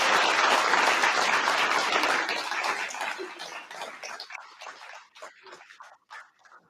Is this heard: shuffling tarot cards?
no